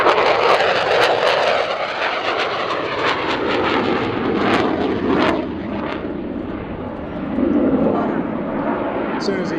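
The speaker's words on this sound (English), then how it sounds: "Look at this, coming in from the left, our F-16" An F-16 Viper fighter jet passing overhead at the Abbotsford airshow, a loud, continuous roaring rush of engine noise that swells and fades slightly as it goes by, with a commentator speaking over it.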